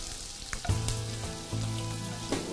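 CDO Ulam Burger patties shaped into meatballs fry in a pan, a loud close sizzle running throughout, broken by a few clanks and a tonal hum.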